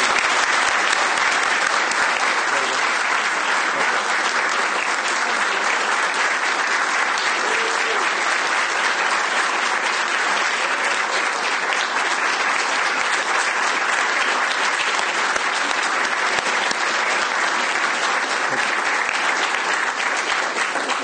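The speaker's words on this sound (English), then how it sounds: "I would like to give her a small token of appreciation and a big round of applause." Sustained, loud applause from an audience at a space studies program event, a steady dense roar of many hands clapping that holds evenly for about twenty seconds.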